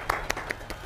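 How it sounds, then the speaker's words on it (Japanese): Sparse applause from a small group at an orientation for a junior high school review course: a handful of separate claps spread across a moment, fairly close and moderately quiet. "拍手ありがとうございます"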